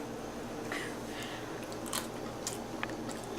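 Soft, close chewing of potato salad mixed with egg, a few moist crunches and squishy bites spread over a few seconds in a quiet room.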